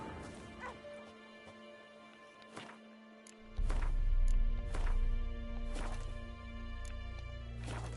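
A dog barks and whimpers in The Witcher 3, with sharp yips over a low musical drone, then a heavy crash sets off a louder, fuller rumbling bed of game ambience.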